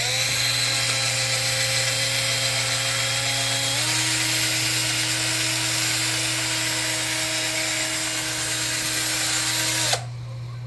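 A power drill motor whines steadily and loudly for about ten seconds, its pitch rising slightly partway through, then it cuts off abruptly near the end.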